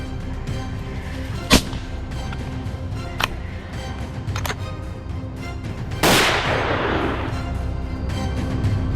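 Rifle shots fired at baboons outdoors in Zimbabwe, several sharp cracks spaced seconds apart, the last followed by a long fading rumble and hiss, with no voices.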